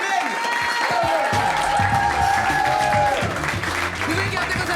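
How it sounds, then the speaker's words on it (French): A stand-up comedy audience applauds in a club, dense sustained clapping and cheering that fills the whole stretch, with a voice talking over the crowd. "Vous pouvez garder vos applaudissements pour Elias Zedem, s'il vous plaît."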